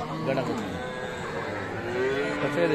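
A Friesian cow with her young bull calf moos at the crowded Aftabganj cattle market in Dinajpur, a long low bovine call running under steady market chatter and nearby talk.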